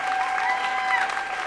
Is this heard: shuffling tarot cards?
no